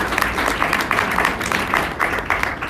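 Audience at the Simply SaaS Forum in Atlanta clapping between presenters, a modest, uneven patter of hands in a room that holds steady for a few seconds with no talking.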